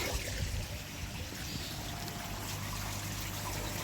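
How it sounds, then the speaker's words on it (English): Water steadily trickles and splashes into a koi pond as it is refilled, a faint, continuous rushing flow with no voices. "So we'll get some more water back in here."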